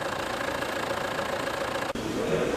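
A Fordson tractor fitted with a diesel engine conversion runs at a steady idle, a low, even mechanical chugging that continues without pause apart from one brief dropout near the end.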